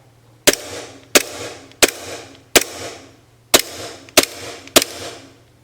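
Seven sharp, snappy shots from a WE G26 gas blowback airsoft pistol fired semi-auto one at a time, each a crisp crack with a brief metallic ring, spaced under a second apart.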